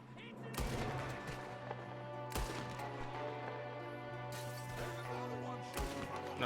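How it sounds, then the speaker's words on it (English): Gunfire in the Red Dead Redemption 2 video game: sharp, loud shots at about 0.6, 2.4 and 5.8 seconds burst out over a steady musical drone, with voices talking in the scene. "Oh, they shot through the wall."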